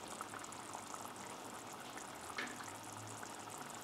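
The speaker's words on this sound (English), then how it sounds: "So I'm going to wait for the water to boil here" Water boiling in a pot for Satay Bee Hoon, a steady bubbling hiss that keeps going evenly throughout with no talk.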